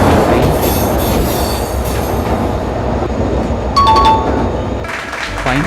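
A train locomotive runs in an Indian train simulator video game: loud continuous rolling rumble with rail clatter and brief squealing tones near the end.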